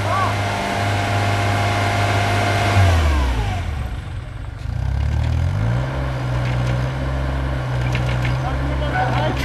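A heavy tractor engine revs up and down while pulling a stuck container, pitch sweeping low then climbing again, loud and close with steady rumbling throughout.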